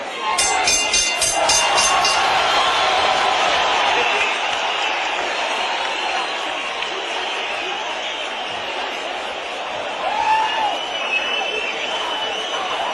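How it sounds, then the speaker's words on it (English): Applause and cheering from a standing arena crowd at a heavyweight boxing match between Larry Holmes and Tim Witherspoon, a steady broad roar of clapping throughout, with a commentator speaking over it. "a standing crowd showing their appreciation of the effort of 2 well-conditioned heavyweights"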